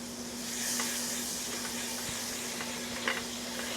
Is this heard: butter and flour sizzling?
yes